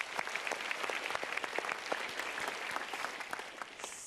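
A room full of people claps steadily for several seconds, an even patter of applause with no cheering.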